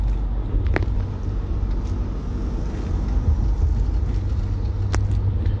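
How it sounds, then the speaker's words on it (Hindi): A white Ertiga car rolling in a long political convoy of security vehicles and party workers' cars headed to Madhepura, heard as a steady, loud, low road rumble with faint passing clicks and no voices. "ये वही अर्टिगा व्हाइट कलर की गाड़ी है जिसमें माननीय राष्ट्रीय अध्यक्ष को ले जाया जा रहा है मधेपुरा"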